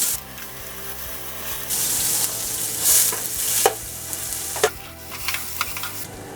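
Chopped onion frying in hot oil with cumin seeds, bay leaf, cardamom and a cinnamon stick, a loud close sizzle that swells as the onion goes in, with stirring scrapes and no talk.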